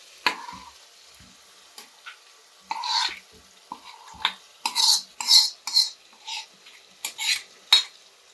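A spoon scrapes and stirs a prepared paste into a cooking pan for tomato rice, about ten distinct scraping strokes in quickening rhythm over a faint frying sizzle, with no voices.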